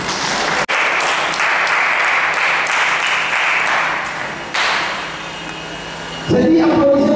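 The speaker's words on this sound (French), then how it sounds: "ensemble, on va applaudir pour vous tous" An audience at a sports show applauds loudly, a dense wash of clapping that dips briefly near the start, carries on strongly, then gives way to a voice with crowd noise at the end.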